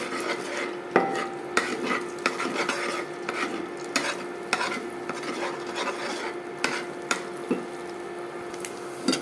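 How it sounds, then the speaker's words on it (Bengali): Eggs are scrambled in a piping-hot pan, a spatula scraping and stirring in quick irregular strokes over a soft continuous sizzle, close and fairly loud with sharp clacks throughout. "পাইপিং গরম করেছি আর কি এটার মধ্যে ডিমের স্ক্রাম্বলটা তৈরি করে নিচ্ছি"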